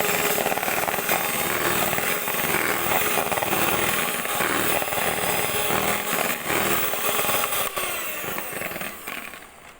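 Electric mixer whipping cream for a homemade cake, a loud steady buzzing drone that runs continuously and close up, tapering off slightly in the last second with no talking over it.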